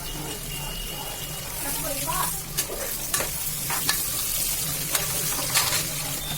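Food sizzles in a pan while being stirred and sautéed until golden brown with rock salt for a simple dinner, a continuous frying hiss broken by scraping stirring clicks and occasional sharper taps.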